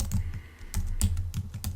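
Code being typed on a computer keyboard: quick, close key clicks in irregular bursts of several strokes, with no talking.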